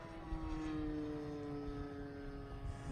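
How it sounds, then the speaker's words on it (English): A foam RC T-34 Mentor model plane drones overhead on its maiden flight at an RC flying field, a steady high-pitched motor whine that holds fairly even throughout, distant and faint with no voices. "That T-34 foam is one of the best you can buy."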